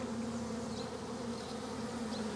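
Honey bees hum steadily at a hive with a weak queen, a close, continuous drone with a strong even tone and no voices.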